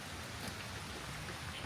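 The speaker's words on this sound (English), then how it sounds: "it's really rainy" Steady rain falls outdoors in Singapore at a treetop walk, a dense, even hiss of drops on surfaces with no pauses, fairly faint and heard alone.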